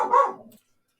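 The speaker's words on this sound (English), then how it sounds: "I just had to deal with the dogs barking outside at this time of night" Dogs outside at night give a single loud, close bark that fades off quickly into silence.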